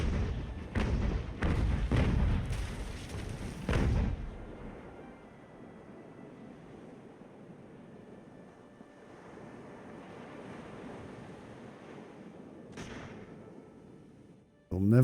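Cannon broadsides from a sailing warship in Ultimate Admiral Age of Sail: a quick run of loud, booming shots up front, then a lull of rolling sea and wind, with a single distant report later.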